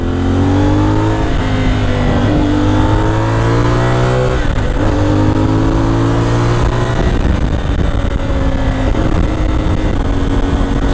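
CF Moto 450MT motorcycle engine accelerating hard while riding, its rising harmonic whine climbing through each gear and dropping at the shifts, loud and close throughout with wind rush behind.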